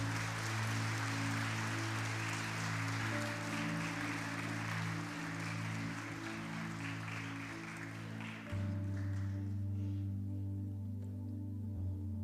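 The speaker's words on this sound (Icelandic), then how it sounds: "Ef ekki bara gefa þeim gott klapp." Congregation applauding during a church service at Lindakirkja, steady sustained clapping under loud droning organ chords, with no talk.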